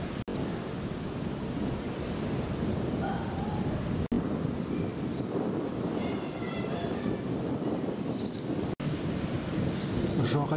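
A storm over Lake Orta at Orta San Giulio, Italy, brings a heavy, continuous rumble of thunder mixed with rushing wind buffeting the microphone, loud and steady for the whole stretch, with brief chirps and no talking.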